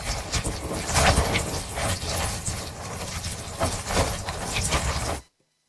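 A dense, churning liquid creature movement sound effect, with wet squelching texture and a low end pitched down with GRM Warp, loud and continuous for about five seconds before cutting off to silence.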